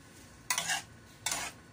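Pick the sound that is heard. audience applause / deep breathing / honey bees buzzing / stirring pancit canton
stirring pancit canton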